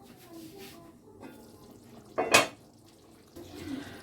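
A lid being set onto a pot of malai makhni chicken handi: soft kitchen clatter, then a sharp metallic clank and rattle of the lid settling, followed by quieter stirring and shuffling noises.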